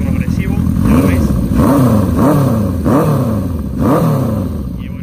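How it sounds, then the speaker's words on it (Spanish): A Honda CB 400 Four four-cylinder motorcycle engine, café racer build, revs up and down in rising, falling sweeps, loud and close, with a smooth mechanical tone. "Una moto que suena muy bien, cuatro cilindros, sonido progresivo"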